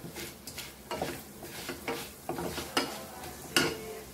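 Cumin and shahi jeera seeds sizzle in hot oil in a pan for butter chicken masala, with a soft continuous crackle broken by several clinks and scrapes of a spoon stirring against the pot, close and fairly quiet.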